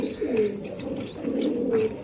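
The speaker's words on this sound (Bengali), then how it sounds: "এই জায়গায় একজোড়া খয়রাগোলা কবুতর আছে পুরান জাতের" Pigeons of an old brown-pied breed cooing in a loft, close, repeated rolling coos with rising and falling calls overlapping, loud and clear without talk.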